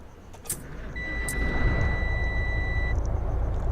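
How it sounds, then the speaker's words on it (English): A truck engine rumbles steadily while a brief hiss of air release from the air brake is followed by a sustained high electronic tone, with a short puff of air near the end, in American Truck Simulator. "Air brake on."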